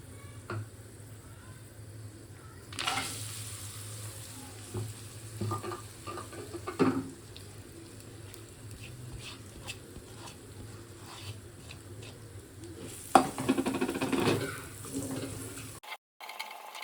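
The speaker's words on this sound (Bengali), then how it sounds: "গোলমরিচ দিয়ে ভেজে নিচ্ছি" Rice frying in a pan with bay leaf, cinnamon, cardamom, mace and black pepper: quiet, intermittent sizzling and stirring scrapes, with a couple of louder bursts of clatter and stirring, alone with no talk.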